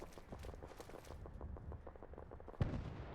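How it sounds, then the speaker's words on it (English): A rapid string of muffled video game gunshots from Fallout 4 pops in a steady rhythm, then one louder, heavier blast near the end, with no talking. "Gunshots?"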